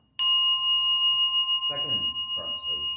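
A ritual bell in a Zen service is struck once, ringing loud and close with a long sustained tone, while people's voices begin murmuring over its fading ring.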